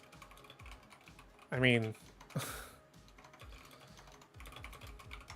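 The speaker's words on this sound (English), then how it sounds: "I'm just typing things out" Soft, rapid keystrokes on a computer keyboard clatter steadily during a live-stream watch party, quiet and close, with someone talking over part of it.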